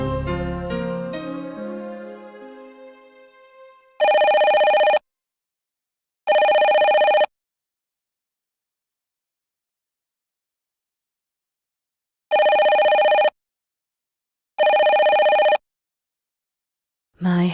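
A telephone in the 1997 PS1 game Dark Hunter rings in loud electronic bursts, four evenly paired rings separated by silence after a decaying musical chord fades out.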